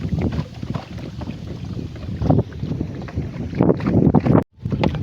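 Wind buffets the microphone as a village boat moves across floodwater through a neighbourhood, a rough, gusting rumble with water noise that dips sharply to near silence for a moment before resuming.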